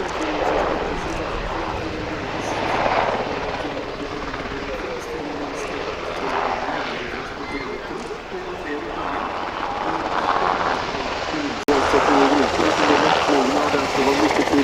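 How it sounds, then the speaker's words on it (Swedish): A UH-60 Black Hawk helicopter at the Uppsala air show makes a steady rotor and turbine roar throughout, with someone talking over it. "Det var ju en väldigt flexibel helikopter som kan användas till mycket saker."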